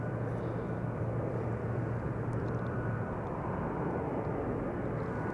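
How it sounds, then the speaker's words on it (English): A Finnair Airbus A350 passing overhead near Amsterdam Schiphol Airport, a steady broadband engine roar held at constant loudness throughout, distant and without voices. "am hearing a Finnair A350 passing overhead."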